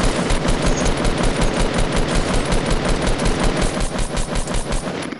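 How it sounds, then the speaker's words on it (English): Dense, rapid video game gunfire during a firefight, loud continuous automatic bursts rattling without a break throughout, with no talk over it. "Are you in a gunfight, bro?"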